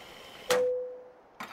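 A truck is refueled at a fuel pump in American Truck Simulator, heard as a sharp metallic clunk with a sustained ringing tone, followed after a short pause by another clunk.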